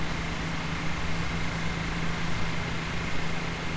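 Cars drive through floodwater on a Dubai street near the Burj Khalifa after the first heavy downpour, producing a loud, continuous wash of road and engine noise close by with no pauses.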